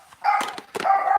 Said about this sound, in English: dogs are going nuts